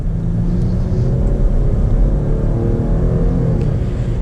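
A Jeep Grand Cherokee Limited X with a 3.6 liter V6 accelerates, giving a steady, fairly loud engine drone with road rumble heard from inside the cabin.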